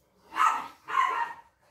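Dogs bark twice in close succession, with loud, close barks and no other sound around them.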